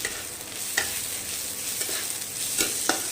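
Chopped ginger and garlic fry in a pan and are stirred, giving a steady soft sizzle broken by a few sharp scraping strokes of a spoon against the pan.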